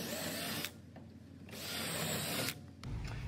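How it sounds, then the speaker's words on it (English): A power drill buzzes in short bursts through a pontoon boat deck while corner caps are installed, whirring up and cutting off twice, close and fairly quiet, with brief pauses between. "all that's left to do is to drill my holes through each one here"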